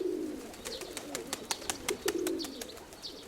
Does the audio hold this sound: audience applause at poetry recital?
no